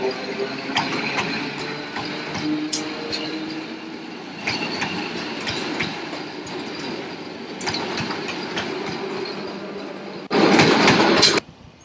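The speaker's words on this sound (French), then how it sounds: "Notre convoi quitte la gare de Nova Zagora." A train pulls out of Nova Zagora station in Bulgaria with rolling wheel clatter and rumble, occasional squeals and clicks, rising to a loud burst of rail noise near the end; no one speaks.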